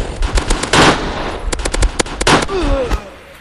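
Rapid bursts of automatic gunfire and single shots crack through a match of the shooter game Mask Gun, loud and close, with short gaps between volleys and a fading tail at the end.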